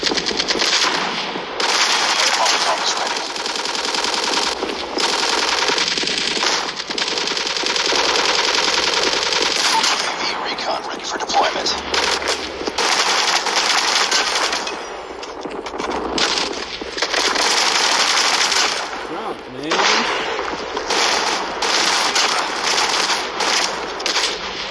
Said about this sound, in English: With a 12-gauge shotgun.